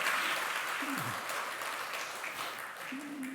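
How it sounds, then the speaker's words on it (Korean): A church congregation claps in welcome and congratulation during a Sunday service, a fairly faint, even round of applause that slowly fades, with a brief voice in the background. "우리 환영의 축하의 박수 한번 해주시면 감사하겠습니다."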